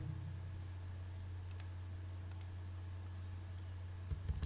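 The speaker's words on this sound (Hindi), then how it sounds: "right click" Two faint, sharp computer mouse clicks, spaced under a second apart, stand out against a steady low electrical hum during AutoCAD Civil 3D work, with no speech.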